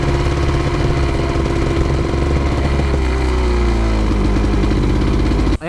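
A DT motorcycle engine being broken in runs loud and close, bogging down and spluttering with a rough, uneven running note that carries on without a break before it cuts off abruptly at the end.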